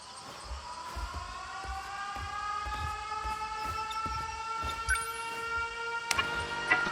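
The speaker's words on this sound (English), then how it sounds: "Air raid alarms have been sounded." An air raid alarm in the video game 13 Sentinels: Aegis Rim wails in a slow rising tone, layered over a steady rhythmic thumping and a couple of sharp clanks near the end.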